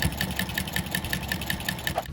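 Sewing machine stitching the halves of a collage-style Packers T-shirt quilt top together, a rapid even mechanical chatter of stitches running continuously and close, with no talking.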